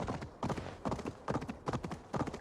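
Horse hooves clip-clop along a road in Assassin's Creed Valhalla, a steady rhythmic trot of sharp, close hoof strikes repeating about every half second with no talk.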